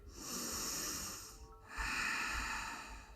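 Two close, breathy inhalations through the nose during a yoga class, each a hissing draw of air with a brief pause between them.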